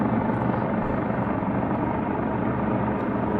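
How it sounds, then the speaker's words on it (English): Continuous loud thudding whir of helicopter rotor blades, close and steady throughout with no pauses. "Helicopter rotators or helicopter blades"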